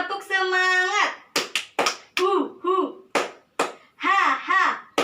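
A grade 3 and 4 classroom does a rhythmic 'tepuk semangat' clap: a teacher and children chant syllables with sharp, close hand claps placed between the words in a short patterned sequence.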